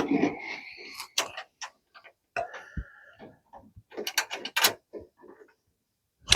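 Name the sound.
nuts being started on bolts while installing a coolant tank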